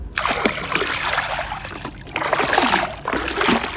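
Pool water is poured from a bucket mixed with cal hypo chlorine, splashing and trickling loudly and close by in two surges separated by a brief lull.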